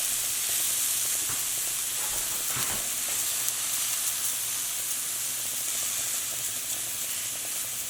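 Steak and soy sauce sizzle steadily in a hot stir-fry pan for a Brussels sprout stir-fry, making a bright, continuous frying hiss with a few brief louder crackles.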